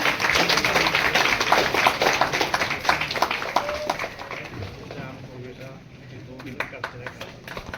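An audience at a Shiv Shakti Foundation event gathered for Devendra Fadnavis's birthday claps loudly, a dense burst of applause that fades after a few seconds as a voice speaks over it.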